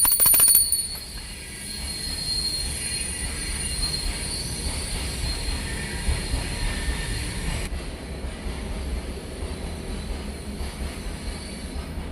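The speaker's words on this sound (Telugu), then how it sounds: "మా ఇల్లు ప్లాట్ఫామ్ దగ్గరే కాబట్టి ట్రైన్ సౌండ్ అయితే బాగా వస్తూ ఉంటుందండి" A train rumbles past a house beside the station platform with a steady, loud roar and high metallic wheel squeal, continuous throughout with no voices.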